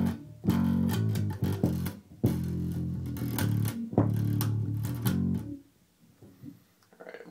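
A bass guitar plays the synth bass line of a song in short, punchy phrases of repeated low notes with brief rests, then the last notes ring out and fade to near silence.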